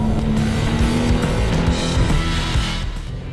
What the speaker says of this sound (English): What a great sounding engine.